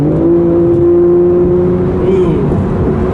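A Porsche 911 Carrera's engine revs close by, a loud, smooth sustained tone that climbs and then eases off over a few seconds.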